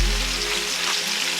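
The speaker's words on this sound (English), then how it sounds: "Just going to fry it about 5 minutes, then we remove it and set it aside" Meat fries in a pan with a steady, loud, hissing sizzle that fills the whole short stretch without pause.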